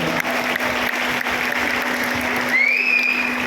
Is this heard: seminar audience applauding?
yes